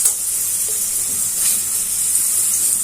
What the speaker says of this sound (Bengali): পেঁয়াজটা ভালো করে ভাজা হয়ে যায়।